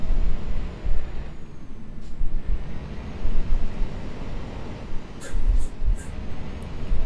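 A truck in Euro Truck Simulator 2 setting off, with a loud, steady low engine rumble and a few short hissing bursts toward the end.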